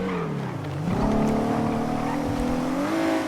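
A car engine in the GTA video game, revving steadily and rising in pitch as it accelerates, loud and continuous throughout with no talk over it.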